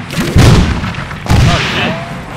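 Two heavy booming grenade blasts in Arma 3 combat inside a compound, the first at about half a second and the second just over a second later, each loud with a rumbling tail and faint voices in the background.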